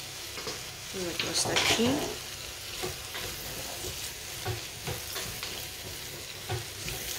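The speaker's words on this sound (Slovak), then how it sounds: "Poriadne zamiešam a nechám chvíľku popražiť." Vegetables for a vegetable soup sizzle steadily in a pan while a spoon stirs and scrapes through them, soft and close, with a brief spoken remark.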